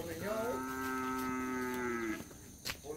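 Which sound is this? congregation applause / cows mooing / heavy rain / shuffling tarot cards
cows mooing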